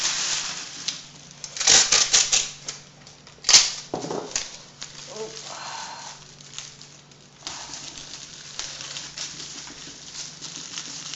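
Strips of masking tape ripping off the roll and pressed down onto a Boba Fett replica helmet's dome, a few sharp tearing bursts near the start followed by quieter rubbing and handling sounds.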